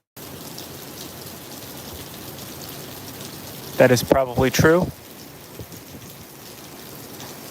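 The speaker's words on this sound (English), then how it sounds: "It is raining right now as well" Steady rain hisses in the background throughout a city street walk in Chicago's Uptown, with someone speaking briefly over it in the middle.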